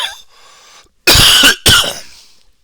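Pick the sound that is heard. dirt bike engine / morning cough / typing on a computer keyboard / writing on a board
morning cough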